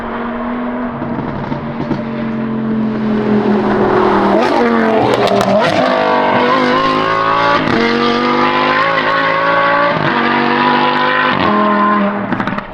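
Lamborghini Huracan fitted with a Valvetronic F1 exhaust, loud and close, its engine revving up and down repeatedly with sharp throttle blips and a rasping, rising tone.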